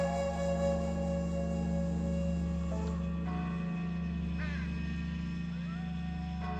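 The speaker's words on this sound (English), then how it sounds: "Large black crows are watching me." Crows caw in a graveyard scene from the video game The Lost Crown, several calls over a steady droning ambient backdrop, with no one talking.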